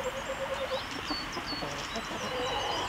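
Hens of a family flock cluck and murmur close by on a small homestead farm, with short repeated calls and soft chatter over a light outdoor background, no talking.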